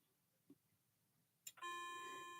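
A clock begins to chime after a couple of faint knocks, its first ringing tone sustained and clear in an otherwise quiet room.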